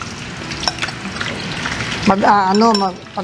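Empanadas deep-frying in oil in a pan, an ongoing sizzle and bubbling crackle, with someone speaking over the frying in the second half.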